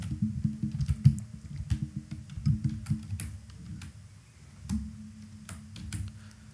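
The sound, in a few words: typing Filmora 14 on a computer keyboard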